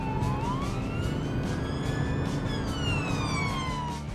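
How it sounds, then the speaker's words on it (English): A police car siren wails in rising and falling sweeps, loud and steady over a low engine rumble, with no talk. The sound may come from a children's cartoon. "The sirens and flashing lights are used to help cars all around see and hear the police coming."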